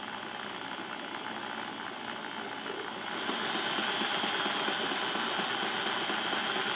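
A Mantua 0-4-0 model train locomotive runs along track with a steady close mechanical whir and ticking gear rattle, growing slightly louder midway.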